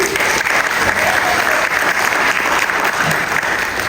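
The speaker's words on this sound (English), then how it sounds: "So let's give National ACE a round of applause." Business summit audience gives a steady, full round of applause for National ACE, continuous clapping in a large room with faint voices beneath.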